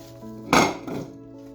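Chopped fresh apple and mango pieces tipped into a bowl land with one loud clattering thud, then a softer second knock as they settle.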